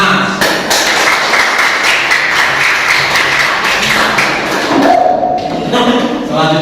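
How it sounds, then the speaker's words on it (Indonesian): Students clap for a group during a classroom lesson, producing loud, close, rapid, somewhat rhythmic claps and thuds over a few seconds, with voices mixed in. "Tepuk tangan untuk kelompok A."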